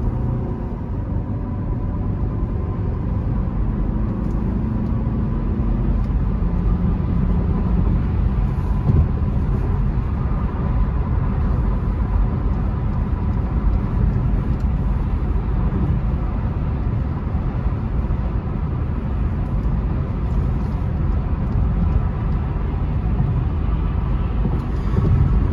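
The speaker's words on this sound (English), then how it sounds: "first we're gonna get on the highway and show you guys that this car has plenty of power to merge onto the highway" A car from a dealership test drive accelerates and cruises on a highway, a steady, loud low rumble of engine and road noise that holds throughout with little change.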